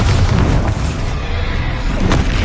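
A Bombarda spell explodes in Hogwarts Legacy on PS5, a loud, sustained booming blast with deep rumble filling the whole moment and no speech.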